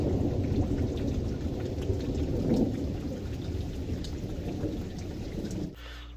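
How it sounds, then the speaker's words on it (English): Steady heavy rain pours throughout with rumbling thunder rolling underneath, a dense continuous storm wash that drops off abruptly near the end. "We got some gothic ASMR for the thunderstorm and the peeling."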